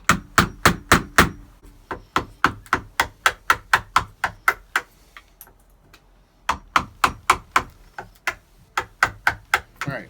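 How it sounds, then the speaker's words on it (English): Steady hammer blows drive a chisel into a wooden door edge, cutting a mortise for a keyless deadbolt latch; sharp, close, evenly spaced strikes come in two long runs with a brief pause between. "And then you gotta chisel it out for the thickness of this."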